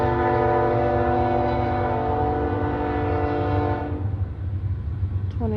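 A Union Pacific train rolls past with its horn sounding loud and steady in a harmonic chord for about four seconds, then cutting off while the rumble of the passing railcars carries on, with no one speaking.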